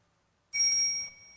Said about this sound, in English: bicycle bell. Really soft.